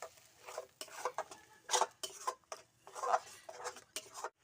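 Palak paneer being stirred in a pan, with short scraping and clinking strokes coming in uneven bursts, close and fairly quiet, with no one talking.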